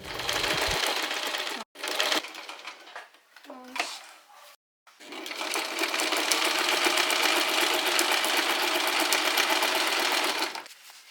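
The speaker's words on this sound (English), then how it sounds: "After the base is done, as you can see, I'm stitching it normal, like drawing its shape." A sewing machine stitches fabric for a camera bag, running in short stop-start bursts and then one long steady run of rapid mechanical chatter, close and loud, with brief pauses between.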